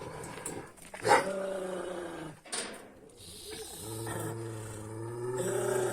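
A dog growls and snarls up close, a rough rumbling that swells and fades over several seconds with some scuffling noise around it.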